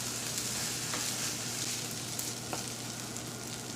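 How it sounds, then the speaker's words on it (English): Pork fried rice with egg and kimchi liquid being stirred in a hot pan, a continuous moderate sizzle with a few soft scraping stir sounds, close and without talk. "And give that one last stir."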